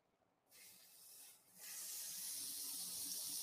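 Beef hits a hot pan with a bright, hissing sizzle that starts suddenly, dips for a moment, then swells into a steady, loud frying crackle.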